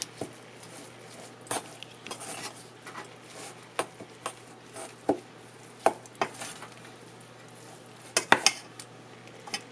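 Utensil clinking and scraping against a bowl as bibimbap is stirred and mixed, with irregular close knocks and scrapes over a soft background hum.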